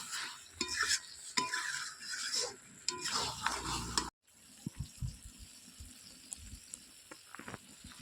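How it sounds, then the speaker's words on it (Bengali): Mutton is stir-fried over low heat in a pan, with close, busy scraping and clattering of a spoon for about four seconds, then sparser soft stirring and faint sizzling follow. "আমি খাসির মাংসটা এরম করে কষবো, যতক্ষণ না তেল বেরোচ্ছে না ততক্ষণ আমি এটাতে জল দেব না।"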